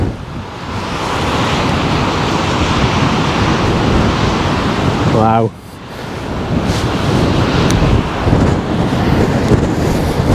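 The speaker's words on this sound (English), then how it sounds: "Woof, windy. Look at those waves." Loud sea waves and surf roar under strong gusting coastal wind buffeting the microphone, with a brief exclaimed word partway through.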